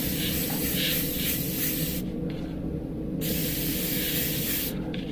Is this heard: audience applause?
no